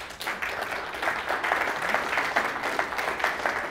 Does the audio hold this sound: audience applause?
yes